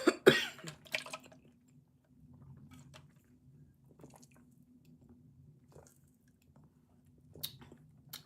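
A woman coughs and clears her throat after a drink of water goes down the wrong way, a burst of sharp close coughs at the start, then quiet sputters and another small cough near the end.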